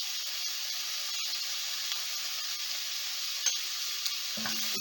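Summer squash and garlic sauté in a hot pan with a loud, even, continuous sizzle and faint scraping, and a brief low thump comes in just before the end.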